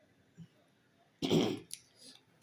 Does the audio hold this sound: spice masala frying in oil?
no